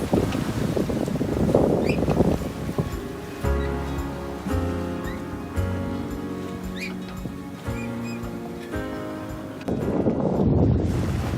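A sailboat crossing the Atlantic in about 12 knots of wind at roughly 5.5 knots: steady rushing water and hull noise, with heavy wind buffeting the microphone at the start and end.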